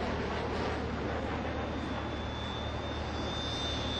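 A Dassault Rafale fighter jet roars steadily and loudly at high speed as it enters an oblique loop during an air display, a continuous broadband jet rush with a faint high whine rising through it.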